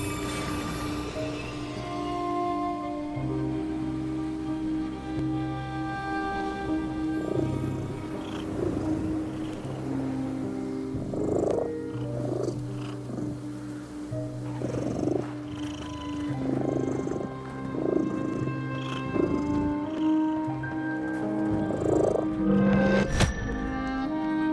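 A cat purrs in the video game The Midnight Walk, a close, steady rhythmic rumble lasting throughout, with soft game ambience and tonal music underneath.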